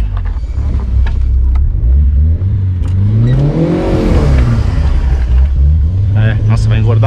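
Turbocharged Chevrolet Celta driving and revving, its loud engine rumble climbing in a steady sweep to a peak mid-clip and easing back down, close and dominant throughout.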